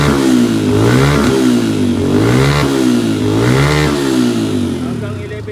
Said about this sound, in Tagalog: I-revolution natin.